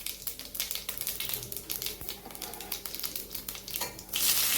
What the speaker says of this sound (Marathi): आपण मिरची फ्राय करून घेऊया।